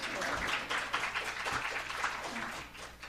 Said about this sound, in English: We'll give a round of applause to Malia for doing a great introduction